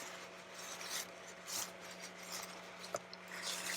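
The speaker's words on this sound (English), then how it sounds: "I'm going to clean up the excess grease" A cloth wipes excess grease from the brake caliper of a Mountfield 1538M-SD ride-on lawn mower, making soft, close rubbing strokes in short irregular bursts with an occasional light click.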